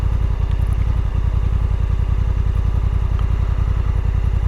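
A Honda NT1100 motorcycle runs with a steady, even low engine thrum and fast regular pulsing, close and loud throughout with no talking.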